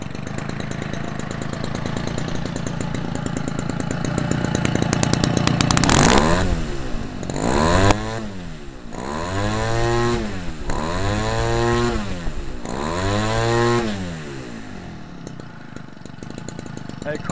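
A McCulloch Mac 32cc gas engine on an RC racer running close by, a buzzy two-stroke drone that rises and then revs up and down in repeated sweeping bursts before settling, with people talking over it.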